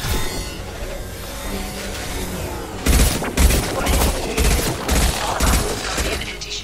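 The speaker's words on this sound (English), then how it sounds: "Firing a high-impact shot!" High-impact gunshots and heavy fire in Mass Effect 2 crack repeatedly in a rapid, uneven volley of loud, booming blasts over a dense battle background, with no talk.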